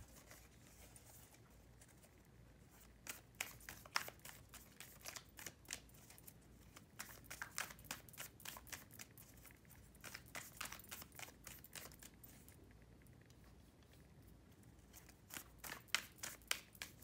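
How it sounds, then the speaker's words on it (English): Tarot cards being shuffled quietly in bursts of rapid riffling clicks, close and soft, with brief pauses between shuffles and no talk. "Let's shuffle a little bit longer."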